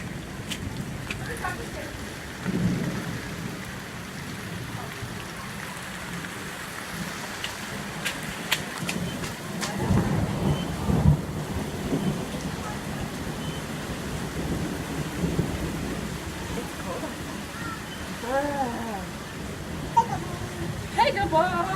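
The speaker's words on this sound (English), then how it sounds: "Crazy rainstorm." Heavy rain hisses steadily through a storm with low rumbles of thunder, while children and adults talk and call out intermittently nearby.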